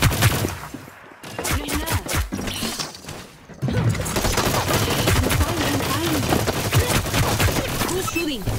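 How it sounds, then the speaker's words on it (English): Gunfire in the video game Hyper Scape: rapid bursts of shots crack repeatedly through the whole scene and grow denser and louder after a brief lull, mixed with game sounds and some talk. "Who's shooting?"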